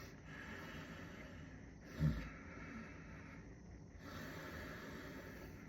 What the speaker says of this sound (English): making a sound in the throat where it sounds like the ocean, like the waves are going in and out